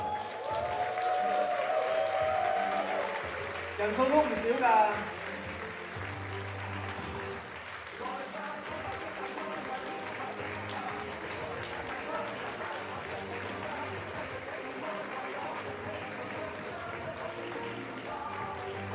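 At a Hong Kong press conference for the top 100 contestants of a middle-aged singing contest, the audience applauds in a burst. The clapping is loudest for the first few seconds, then tapers off beneath a host's amplified voice.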